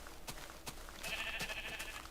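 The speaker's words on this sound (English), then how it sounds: "There are sheep of all kinds and shapes and colors" A brown sheep in the video game Minecraft gives a short, nasal bleat over a quiet backdrop of soft clicks and small taps.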